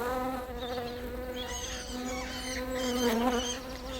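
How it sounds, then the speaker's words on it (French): Swarms of midges flying over a lake make a continuous, close insect buzz with a steady pitch that wavers slightly, and no talk. "Des nuées de moucherons volent au-dessus de l'eau."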